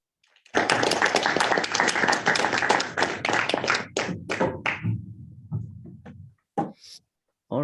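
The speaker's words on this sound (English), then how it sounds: "Let's give him another round of applause." Audience applause for a conference speaker in a room, a burst of dense clapping that holds steady for a few seconds, then thins into scattered claps and fades, followed by a few isolated taps.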